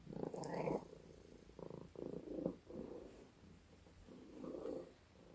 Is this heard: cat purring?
yes